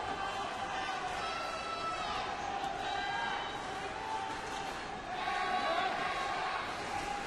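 Fans cheer at a men's doubles badminton match at the 2014 Asian Games in Indonesia, a sustained roar of crowd noise with rising shouts and whistles, while a commentator talks over it.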